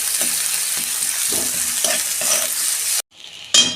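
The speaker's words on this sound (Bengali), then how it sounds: "রসুন কুচি দিচ্ছি, আর কাঁচা লঙ্কা দিচ্ছি 3টে। এটা আমি ভালো করে তেলে ভেজে নেব।" Chopped garlic and three green chillies fry in oil with a loud, close, continuous sizzle and a few stirring knocks, then break off into near silence before a brief hiss comes back.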